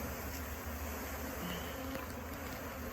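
Honeybees from a package are being dumped into a top bar hive, giving a constant soft buzzing drone of many bees, faint and steady throughout, with no voices.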